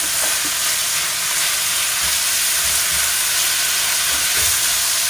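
White onions frying in oil and butter in a pan give off a steady, dense sizzle that hisses evenly throughout, close up, with no voices.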